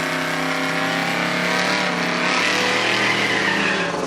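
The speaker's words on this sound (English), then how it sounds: "Good burnout on Dart." Dodge Dart drag car doing a tire burnout at a drag racing event, a loud sustained tire squeal over a harmonic engine roar, holding steady at close range for several seconds.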